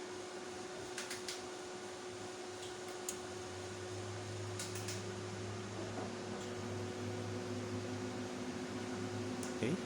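A 5000W 48V hybrid inverter in a UPS box panel hums steadily under two electric heater loads, with a low droning tone, a constant fan-like whir and a few faint clicks throughout.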